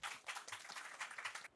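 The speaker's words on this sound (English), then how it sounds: "May we please have a big round of applause for them." A conference audience claps for the speakers at a session, a dense, even patter of many hands that sounds faint and distant, then cuts off abruptly.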